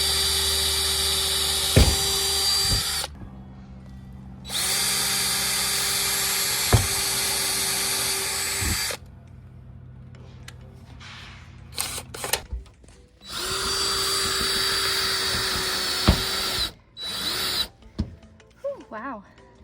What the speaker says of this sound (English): Now I'm just gonna pre-drill some holes so the screws go in nice and easy.